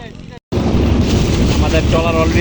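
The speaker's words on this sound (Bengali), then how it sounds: "আমাদের ট্রলার অলরেডি ছেড়ে দিয়েছে" A trawler boat moving on a river, a loud rushing roar of engine, water and wind buffeting the microphone after a brief cut, with faint voices in the background.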